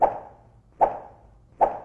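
Jump sound effect from the Roblox video game, made by swinging a wooden stick through the air: three short, identical soft thumping whooshes spaced evenly about a second apart, each fading quickly, clean and alone.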